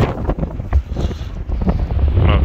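Gusty wind buffets the microphone in low rumbling bursts at Twin Peaks, San Francisco, with a hint of water and open-air ambience around it.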